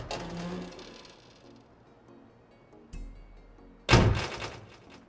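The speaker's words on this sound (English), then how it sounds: "if you choose an old vintage car, this is how opening and closing the doors will sound." Vintage car doors in the video game Forza Horizon 5: a brief creaking opening, a quiet thump and latch click, then a heavy metallic slam as the door closes, with quiet gaps between.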